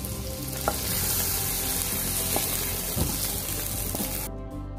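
Paneer is added to a bubbling masala gravy for paneer butter masala and stirred in, giving a loud continuous sizzle and bubbling with a few soft utensil knocks, fading abruptly at the end.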